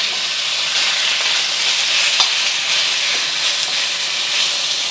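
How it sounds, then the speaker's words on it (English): Beef sears in hot oil in a wok, giving a loud, steady, bright hiss that holds evenly throughout with a faint tap partway through. "add a tablespoon of cooking oil and putting your beef straight in"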